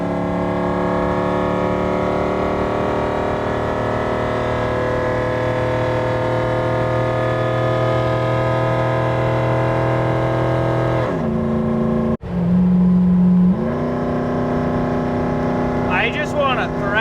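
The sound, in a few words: V8 Toyota Hilux engine intake roaring while revving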